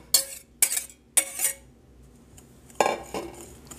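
Egg whites, beaten only until foamy, get stirred into sugar and dry powders in a bowl for a strawberry dome cake, with several quick clinking scrapes of a utensil against the bowl, then a pause and more clinks.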